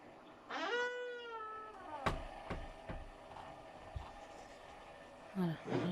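A house cat gives one clear, drawn-out meow with a rising then falling pitch, followed by a few sharp clicks and knocks and a short second cry at the end, in a quiet indoor setting.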